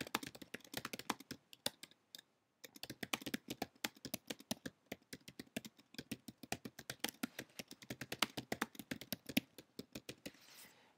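A computer keyboard clatters under fast typing, a dense close run of light key clicks with short pauses in between, steady and fairly quiet, no talking.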